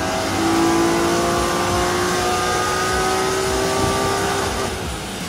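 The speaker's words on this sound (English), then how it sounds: "We had to do some baseline pulls to see what the engine was doing" A DeMan-built 4.5-liter engine in a Spyder roars on a dyno at high, sustained revs, its pitch climbing slowly and steadily, loud and close, with no voices.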